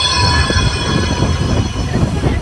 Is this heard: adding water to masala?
no